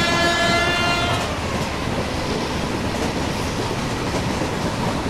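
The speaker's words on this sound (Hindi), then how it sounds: "इतनी खतरनाक स्पीड पे क्रॉसिंग हो रही है ट्रेन्स की" Indian Railways trains crossing at high speed in the Open Rails simulator, opening with a loud horn blast that gives way to a dense, continuous rush and clatter of passing coaches.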